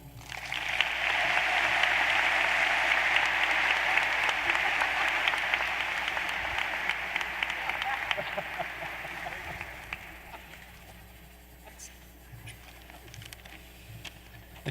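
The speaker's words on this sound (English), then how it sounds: "join me a rousing round of applause for our President of the Student Association, President Connor Bender." A rousing round of applause from a matriculation ceremony audience greets the student association president, loud and dense at first, then gradually thinning and fading out over the final seconds.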